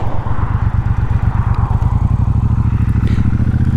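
A 2019 Triumph Bobber Black motorcycle is ridden with its engine thumping in a loud, rapid, pulsing beat, close and continuous, with light road and wind noise.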